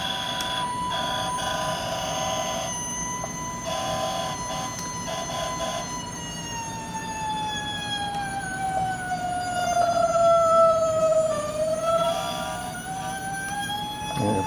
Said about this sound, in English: I did find a sound board to do the siren